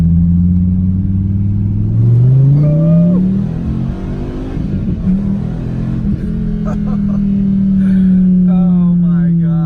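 A Tesla Model 3 Performance accelerates to 160 mph, giving a rising electric motor whine over road and wind rumble, with brief voices partway through.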